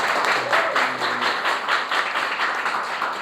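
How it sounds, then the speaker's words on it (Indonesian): Students in a classroom applaud a group representative after her presentation, giving over three seconds of dense, steady clapping at close range, with a brief voice near the start. "Tepuk tangan teman-teman."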